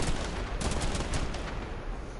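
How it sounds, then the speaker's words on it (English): The Colster weapon in the Warframe video game fires a torpedo that splits into cluster bombs, a dense, loud rumble of overlapping blasts and crackling explosions packed into a couple of seconds. "Shoots a torpedo. Turns into cluster bombs."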